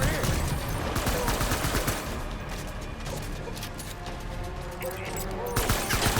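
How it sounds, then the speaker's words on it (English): Assault rifle fire in the video game Death Stranding sounds as a dense, loud, continuous barrage of rapid shots and crashes that fills the whole stretch without pause. "I'll grab another assault rifle just in case."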